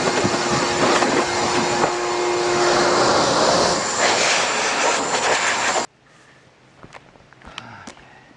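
Compressed air blowing dust off a sanded, assembled wooden foot massage tool: a loud, steady hiss up close that cuts off abruptly after about six seconds, leaving faint clicks and handling noises.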